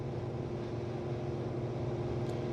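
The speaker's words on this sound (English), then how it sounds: "we're doing 60 miles an hour on a very slight uphill gradient" Steady low engine drone and road rumble from inside a non-turbo 2.4 car with a big-bore stainless exhaust, cruising at 60 mph up a slight incline in top gear, even and continuous with no talk.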